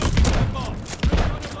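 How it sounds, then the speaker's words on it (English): Shotgun blasts in a shooter game land as heavy booming thumps, one at the start and another about a second later, loud and close, with game noise around them. "A shotgun."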